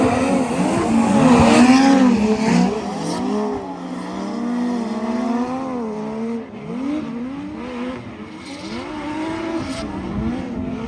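A drift car on a track near Tokyo, its engine wailing through rising and falling revs as tires squeal in long sliding bursts, loud and sustained with no talk.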